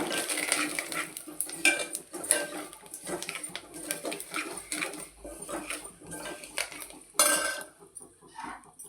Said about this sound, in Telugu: స్పూన్ పసుపు వేసుకోవాలి బాగా కలుపుకోవాలి